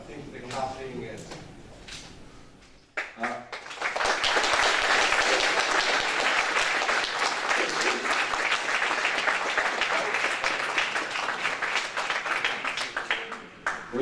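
An audience claps after a PostgreSQL conference talk on declarative data partitioning. The applause swells after a short lull to a loud, dense, steady clatter that runs on to the end, following a brief stretch of other sounds at the start.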